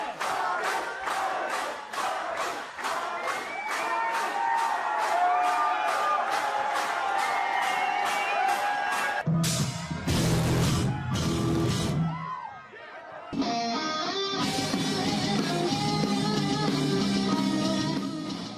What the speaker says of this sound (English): The crowd goes wild when the musicians hit the stage.